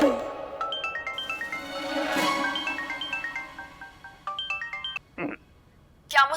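Mobile phone ringtone playing a bright, repeating electronic melody, fairly loud and near, pausing briefly then resuming, with some background voices and noise underneath.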